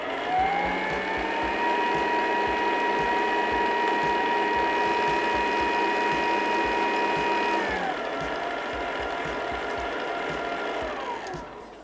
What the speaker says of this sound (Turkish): Şimdi bir daha en yüksek devirde çırpıyorum ve oluyor.